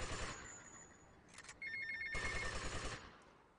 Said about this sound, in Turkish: Bir telefonunuz var.